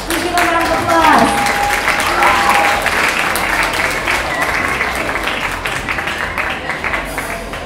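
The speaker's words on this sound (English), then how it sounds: "Please give a round of applause." A middle school concert crowd at the House of Blues applauds loudly as a student band is introduced. The clapping is dense and steady, with some voices and cheers mixed in.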